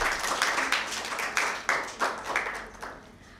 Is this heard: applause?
yes